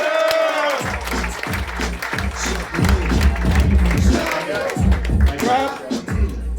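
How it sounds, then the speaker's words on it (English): A studio audience claps and cheers for comedian Christian Finnegan at a comedy roast show, sustained dense applause with a host's voice carrying over it throughout. "Clap it up as loud as you can for Christian Finnegan."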